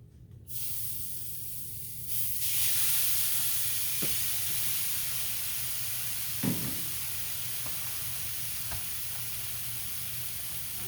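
One and a half pounds of ground turkey hits a hot skillet and starts to sizzle, then the hiss swells into a steady, close frying sound with a few stirring knocks and no talking.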